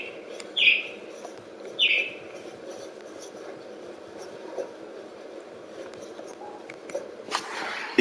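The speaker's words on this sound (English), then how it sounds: "It's that one bird and it's making so much noise." A single bird chirping in The Last of Us Part I video game, two short high chirps a second apart over a steady low ambient hum, followed by quieter background game sounds and a faint chirp near the end.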